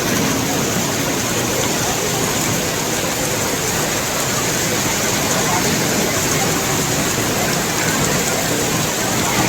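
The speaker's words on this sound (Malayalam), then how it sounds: "നല്ല മഴയാണ് കേട്ടോ." Heavy rain falls in a steady, dense hiss on a trip to Malayattoor, loud and continuous throughout with no let-up.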